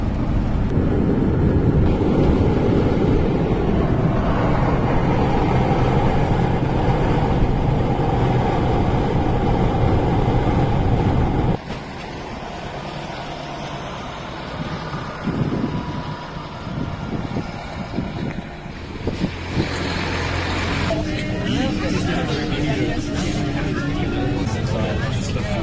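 A crowded bus drives along with a loud, steady engine rumble and road roar, turning quieter partway through before the rumble swells again, and people talk faintly over the noise.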